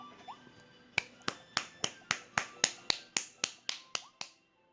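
Roughly a dozen sharp, evenly spaced claps from one person, close and crisp, with brief silence between each hit before stopping.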